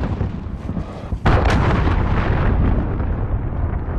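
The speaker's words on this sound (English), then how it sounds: "Allied cruise missile launched." A cruise missile strike in Call of Duty: Modern Warfare, a sudden heavy explosion crashing in after a moment of background noise, then a loud rolling rumble that slowly fades over several seconds.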